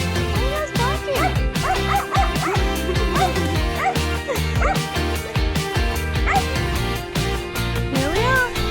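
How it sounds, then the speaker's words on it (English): Dogs bark and yip repeatedly at the Georgia-Armenia border crossing, sharp close barks mixed with whimpers in a busy, loud stretch with a voice briefly under them. "Who's barking?"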